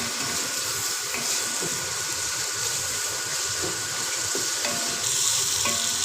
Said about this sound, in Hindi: काट के फिर मैंने इसके अंदर 1 कप ऑयल डाला है और मैं इसको अब लाइट ब्राउन सा कर लूँगी